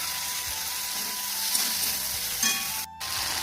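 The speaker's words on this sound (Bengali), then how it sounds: "তো ভেন্ডিটা আমার ভাজা হয়ে গেছে। সেটা দিয়ে দেবো সর্ষে বাটাটা" Fried okra sizzling in a pan as mustard paste is added, a close, steady crackling sizzle with a stirring scrape, briefly dipping near the end before continuing.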